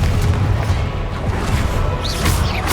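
A Confringo fire spell bursts in Hogwarts Legacy, a continuous loud booming blast with crashing rumble lasting throughout, close and dense, with faint whistling tones near the end.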